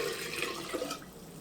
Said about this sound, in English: And now I'm going to add my 3 cups of water.